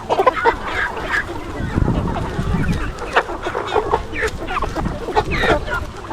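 Free-range farm chickens cluck and squawk close by in a busy, overlapping chorus while pecking at fresh-cut weeds, with a voice speaking faintly underneath.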